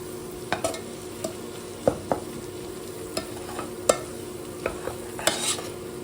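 Goat head pieces fry in hot oil with spices, a steady low sizzle broken by sharp clinks and scrapes of a spoon stirring the pan at irregular intervals, close and moderately quiet.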